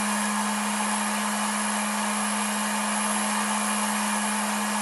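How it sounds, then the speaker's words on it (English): Cooling fan of an ISDT T8 1000W DC smart battery charger running under load, a loud, steady whirring hiss with a constant hum tone, continuous and close, with no talk. "This is the actual fan on the ISDT charger."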